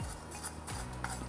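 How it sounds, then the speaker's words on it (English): Whole pieces of activated carbon being gently stirred in a pan, with a few quiet scraping clicks and rattles spaced apart over a short stretch. "Gently stir around."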